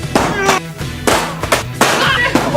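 An Acer Enduro N3 rugged laptop is dropped several times in a durability test, giving loud, sharp impact bangs that clatter against a hard surface. Each crack stands alone against a noisy background.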